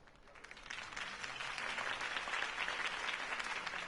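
Video game crowd applause swells and holds steady, many hands clapping in a dense, continuous patter with no voices standing out.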